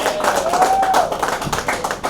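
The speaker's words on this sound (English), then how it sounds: "Huge round of applause for Dr. Sharan." Audience applause at a trailer launch event for a medical web series, a dense crowd of rapid claps that stays fairly steady and moderately loud for a couple of seconds.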